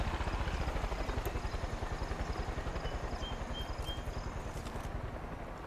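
Helicopter in the video game Far Cry 5, its rapid rotor chop throbbing steadily and loud throughout, a dense low pulsing beat with faint engine whine above, no one speaking.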